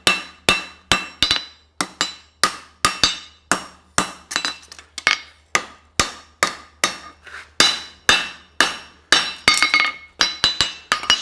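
Hammer blows shaping a small horseshoe heel cork at a forge ring out in a steady run of sharp, metallic clinks. The strikes come close and loud, about two per second, with brief pauses between the bursts.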